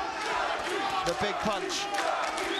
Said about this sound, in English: Chunky goes the cry from his supporters in the crowd here in Brentwood.